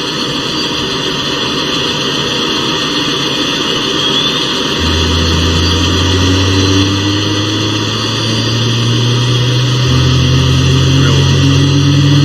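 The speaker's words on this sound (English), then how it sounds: "Start engine 2." Apache helicopter's second engine starting in Arma 2, a constant turbine hiss joined by a low droning tone that steps up in pitch twice, climbing as the engine spools, loud and unbroken with no speech.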